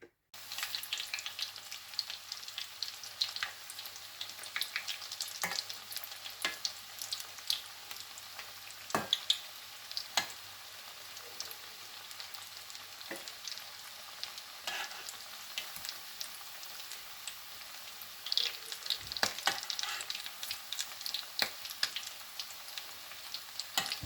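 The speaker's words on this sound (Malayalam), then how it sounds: "ഇനി നമുക്കിതിനെ വറുത്തെടുക്കാം" Fish cutlets sizzle and crackle steadily in hot oil, a dense hiss with scattered pops, close by and uninterrupted, with no talking.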